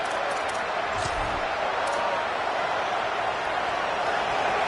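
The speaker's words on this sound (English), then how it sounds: "And this crowd coming to life here, trying to help the defense get a stop." Crowd noise at a college football game between the Cornhuskers and their opponent, a steady loud roar of fans cheering during a defensive stand, continuous broadband noise throughout with no pauses.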